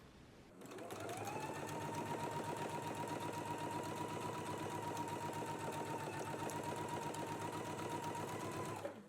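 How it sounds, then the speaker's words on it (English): A sewing machine runs steadily for about eight seconds, stitching a facing onto a jumpsuit collar, with a constant close motor hum and rapid needle rhythm and no speech. "let's go ahead and stitch it all in place now"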